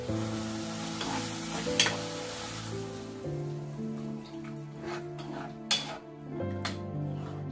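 Food sizzling and frying steadily in a pan after tamarind water is added to a tomato mixture, with intermittent clinks and stirring scrapes, close and continuous throughout.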